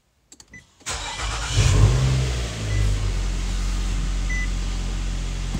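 A Nissan Altima being checked for front brakes that lock up starts with a few clicks, then the engine cranks and catches loudly, and settles into a steady, close idle.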